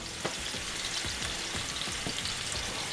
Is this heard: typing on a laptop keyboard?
no